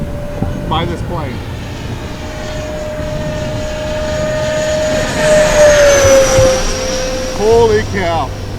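A small E-flite F-15 Eagle RC model jet whines overhead, its pitch sliding as it passes and the roar swelling toward the end, with voices talking underneath.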